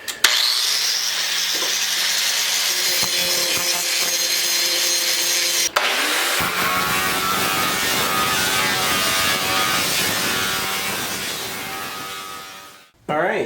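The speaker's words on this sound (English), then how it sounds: "we're going to start grinding all the ends up" Angle grinder working the ends of metal pieces for a log arch hauler build, cleaning them before welding. It runs loud and continuous at close range, pauses briefly midway, and then spins down near the end.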